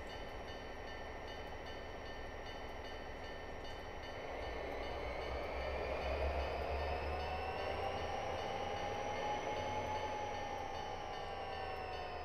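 Freight train hauling coal hoppers on Cajon Pass in a train simulator game, a steady rolling rumble with a sustained horn-like tone overhead; the low engine drone swells louder about a third of the way in and holds to the end.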